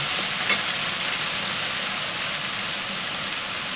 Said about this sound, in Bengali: একটু হালকা করে কষিয়ে নেব।